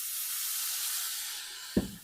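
A sustained hiss of cooking wine sizzling in a hot pan while making mapo tofu fills the clip, loud and steamy, fading slightly before a dull knock near the end.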